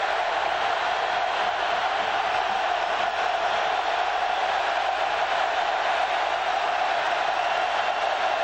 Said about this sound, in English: Crowd again trying to be a big part of it.